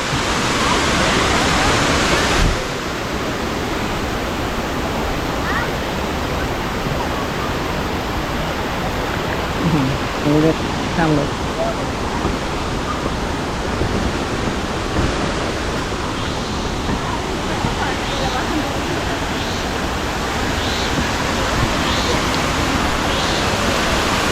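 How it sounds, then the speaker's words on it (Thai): Pa Charoen waterfall in Thailand rushes as a loud, steady broadband roar of falling water throughout, close by and masking everything else, with no clear talk. "เดี๋ยวเราจะพาข้ามไปดูน้ำตกใกล้ๆนะครับ"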